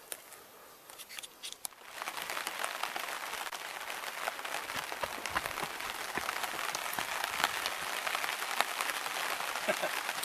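Rain falls steadily at Big Bob Lake, a dense patter on surfaces that starts after a quieter moment of faint noises and continues without talk.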